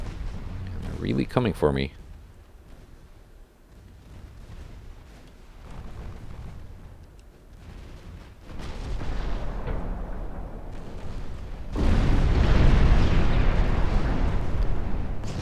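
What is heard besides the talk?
naval secondary guns firing, video game Ultimate Admiral Dreadnoughts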